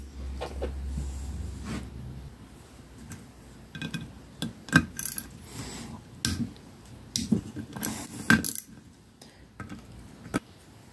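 Screws come out of a Mercedes C55 722.6 transmission valve body, with scattered sharp ticks and clicks of a tool turning and releasing them, some in quick bursts and others isolated, heard close and alone.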